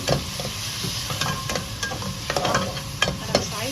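Oil and ghee sizzle steadily in a pan as onions fry for a rice dish, a continuous crackling hiss broken by occasional clinks and stirring scrapes close by, with no talking.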